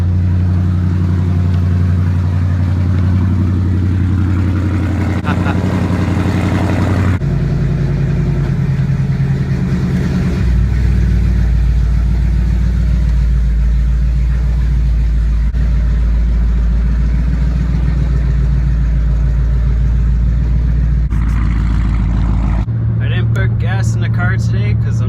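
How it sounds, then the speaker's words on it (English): A car's engine cold-starts in a garage and settles into a loud, steady idle with a deep low hum that shifts in pitch a few times, ending in a brief clatter. "Cold start in the garage."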